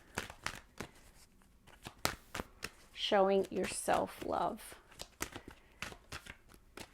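Quick riffling card shuffle, a crisp burst of fluttering snaps lasting a second or two, with someone speaking softly before and after.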